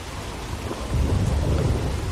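Rain and thunder in a video game: a steady hiss of heavy rain, with a deep rumble of thunder swelling up partway through and rolling on.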